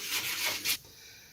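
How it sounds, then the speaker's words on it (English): Quick strokes of sandpaper rub across the wooden tailplane of a model WW1 Airco DH2 aircraft, two or three brief scratchy passes up close, then quiet. "So I'll sand that down flat and then it'll be good to go."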